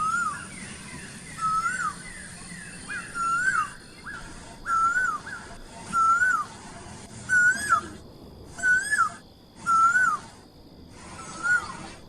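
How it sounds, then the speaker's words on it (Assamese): An Asian koel repeatedly sings a rising two-note call, about nine times in a steady rhythm, clear and fairly close against a quiet background. "কুলি চৰাই মানে মাতি আছে যিটো কুহু"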